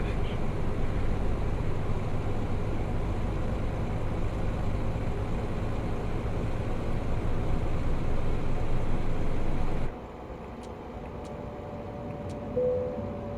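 A Neoplan Starliner coach's engine in Euro Truck Simulator 2 drones steadily and loudly for about ten seconds, then drops abruptly to a quieter hum with a few faint high tones.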